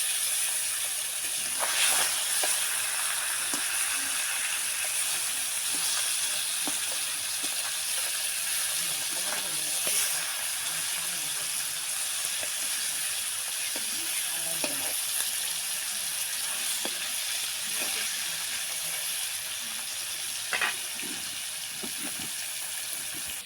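Pangas fish fries in hot oil, giving a steady bright sizzle and hiss throughout with occasional faint stirring knocks, close by and uninterrupted by talk.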